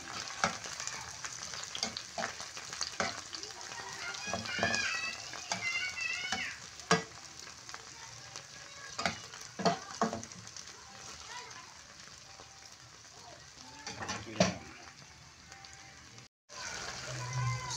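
Steady crackling sizzle of oil frying in a pan, continuous throughout with occasional louder pops and scraping, a voice talking over it intermittently.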